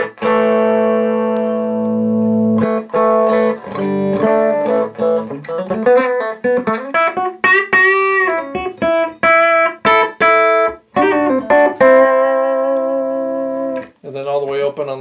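Gibson Les Paul Special Tribute electric guitar played through its bridge humbucker, loud sustained chords and single notes ringing with distortion and effects, alone without talk.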